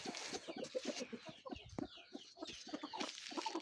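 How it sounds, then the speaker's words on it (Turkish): Young chickens chirp and cluck together continuously in a farm coop on a rainy, cold day, a busy overlapping chorus heard fairly close but at modest volume, with no talk. "Bir diğer taraftan arkadaşlar yavrularımız var."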